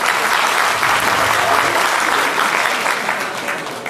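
Applause from a crowd at a bank shareholders' meeting, a loud dense burst of clapping that holds strongly and then gradually fades toward the end.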